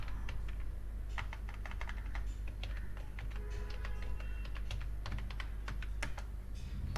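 Keys on a computer keyboard clatter in quick irregular bursts of close, crisp taps as a password is entered, over a constant low hum.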